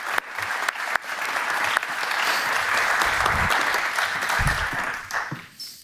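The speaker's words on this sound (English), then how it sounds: "Give them a round of applause as they make their way back in." Audience applause fills a hall at the Global Solutions Summit 2023 as the judges walk back in, a dense steady clapping that holds for several seconds and eases slightly near the end.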